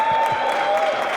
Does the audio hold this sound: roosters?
no